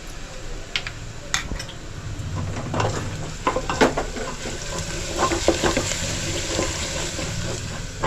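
Homemade masala and turmeric sizzle and fry in a pan for mutton sukka, a steady close crackle broken by stirring scrapes and light clinks of the spoon against the pan.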